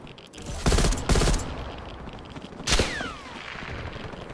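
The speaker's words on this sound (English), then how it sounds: "they're fucking firing snipers at me" Sniper rifle fire in Black Ops Cold War: a few loud, sharp shots ring out in short clustered bursts, each trailing off into echo, over a background of continuous battle noise.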